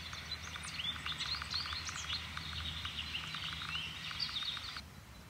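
Birds chirp and twitter in quick bursts over several seconds, fairly faint above a low background rumble, then fall silent at the end.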